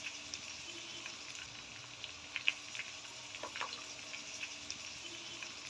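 Hot water poured into spices frying in a pot while cooking pulao, giving a faint, steady bubbling and sizzle with a few soft splashes.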